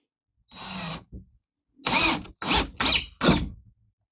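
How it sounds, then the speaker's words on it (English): A power drill drives a screw through a door hinge in a tiny house, heard as a short whir followed by three quick, loud bursts of close motor whine with stops between them. "I'm putting a screw through one of these hinges."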